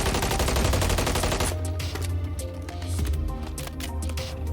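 Rapid automatic fire from an MCW rifle in Call of Duty MW3, a loud continuous burst for the first second and a half, then quieter scattered shots and game sounds.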